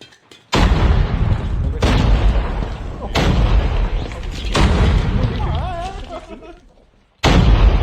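Several heavy explosive booms go off one after another in quick succession, loud and close, with excited voices shouting over them in Thai, during a Call of Duty: Mobile battle royale match.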